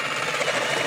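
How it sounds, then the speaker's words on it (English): 79mm hole saw cutting through panel for a snorkel on a 2021 Isuzu D-Max, a brief dense grinding whir, loud and close. "We want to get our 79mm hole saw and we want to drill this guy out so that our air can go into our airbox."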